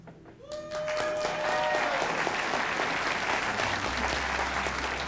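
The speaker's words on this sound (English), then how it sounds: "we'll applaud for our favorite person" An audience applauds a contestant named Mark in a game-style vote, the clapping loud and dense from the first half-second and sustained steadily to the end, with a few brief voices and a whistle-like tone early on.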